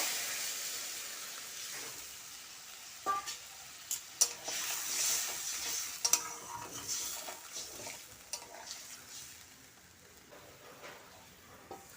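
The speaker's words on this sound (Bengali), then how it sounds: "এখন আমি পরিমাণ মতো জল দিয়ে দেব" Water poured into a pan of frying masala for a potato and pointed-gourd curry, giving a soft sustained sizzle and hiss, with scattered clinks of a spoon against the pan throughout.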